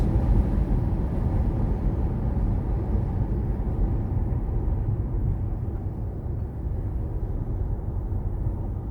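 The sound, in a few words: rumble of an elevated train passing overhead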